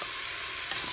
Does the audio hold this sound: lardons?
yes